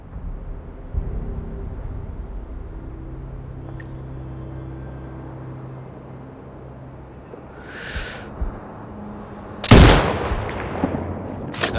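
A sniper rifle shot in Sniper Ghost Warrior Contracts 2 fires as one loud, sharp crack late in the clip, with a short echo trailing off. Before it there is only a low ambient rumble and a brief soft whoosh.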